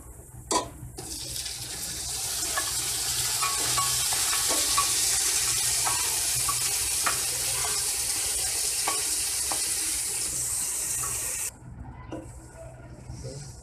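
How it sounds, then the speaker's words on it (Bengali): Beef sizzling and frying loudly in hot mustard oil with browned onions for tehari, a steady close hiss with occasional stirring clicks, ending abruptly. "আমার পেঁয়াজগুলো ব্রাউন কালার হয়ে এসেছে, আমি মাংসগুলো দিয়ে দিব।"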